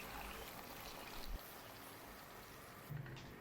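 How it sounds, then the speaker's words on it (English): Hot water pours steadily into a pot of lentils that have been cooking with oil and other ingredients, a continuous close splashing rush lasting the whole moment, with a couple of brief thuds and no talking. "add 5 cups of hot water"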